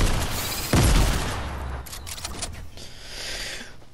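Sniper gunfire in a video game, a loud sharp shot followed by a decaying boom and scattered rattling game sounds over a steady background.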